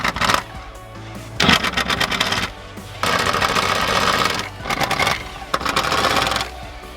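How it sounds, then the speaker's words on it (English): A power tool buzzes in repeated bursts while removing six T45 Torx bolts from the exhaust of a BMW F30 328i Touring, the whirring starting and stopping several times at close range. "Next we need to remove these 6 bolts right here. These are T45s."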